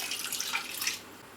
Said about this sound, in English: Here's the yeast nutrient going in, dissolved in just a little bit of water.